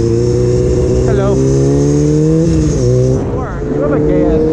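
Motorcycle engine revving loudly and steadily up close while riding past a family and a truck, pitch rising and dipping with throttle, with voices faintly over the engine.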